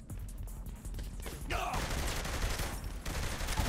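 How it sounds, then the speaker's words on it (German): Rapid gunfire from the video game Saints Row The Third comes in dense bursts with overlapping shots and a loud fusillade swelling midway, sitting under game ambience. "Die schießen aus den Löchern raus"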